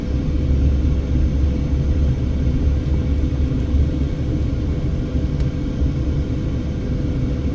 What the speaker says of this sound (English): All that air being pushed out the bottom of the thunderstorm.